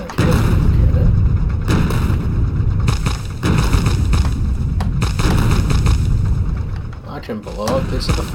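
A Factorio cannon blasts away at the forest with a continuous run of loud, rumbling explosions and booms that overlap with hardly a pause.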